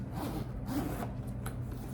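A bag's zipper being drawn open, a steady close-up rasping slide of roughly two seconds with no voices over it.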